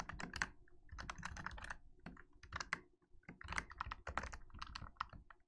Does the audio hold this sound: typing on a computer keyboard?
yes